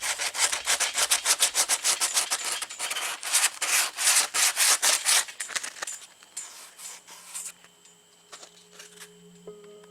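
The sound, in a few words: sandpaper sanding and beveling fiberglass speaker ring edges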